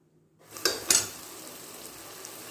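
Chicken biriyani masala frying in a pot, stirred with a couple of scraping spoon strokes near the start, then a steady close sizzle that carries on alone.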